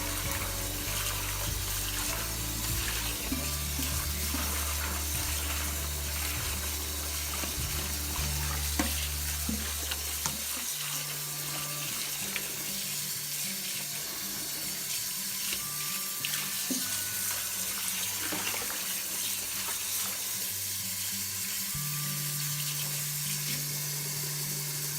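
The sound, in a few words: collard greens stirred and rinsed in sink water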